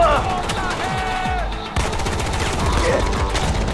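Rapid gunfire from a gun in a first-person shooter game rings out in quick repeated bursts, loud and close, over a busy layer of game sound during an intense fortress and armory battle.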